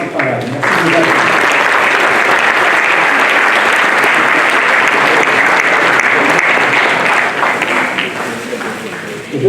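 Loud, sustained applause from the audience at a mayor's New Year's address in Fléville, dense clapping filling the room close to the microphone for several seconds, tapering slightly near the end.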